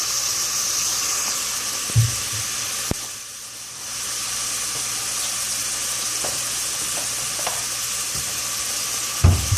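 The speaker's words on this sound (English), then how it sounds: "A little bacon fat, a little bit of onions, and some heat is what we've got going on right now." Bacon fat and onions frying over heat in a pressure cooker pot, a steady bright hiss and crackle that goes on throughout, with a few faint knocks and a brief dip partway through, close and without talk.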